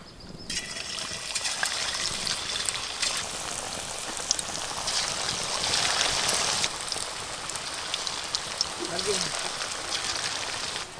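Fish frying in lightly heated oil in a wok gives a steady, dense sizzle that crackles continuously throughout, with a brief voice near the end.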